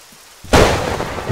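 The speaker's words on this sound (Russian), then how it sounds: "Просто гром?" A sudden thunderclap in the video game Arma 3 bursts in after a quiet moment, a loud, broad crack that rolls on as a rumbling tail.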